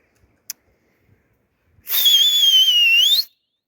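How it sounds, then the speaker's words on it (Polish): A person whistling loudly to make pigeons fly, one sustained shrill wavering whistle lasting over a second, preceded by a few faint clicks and taps. "Sorry za gwizdy. Ale inaczej one nie pójdą."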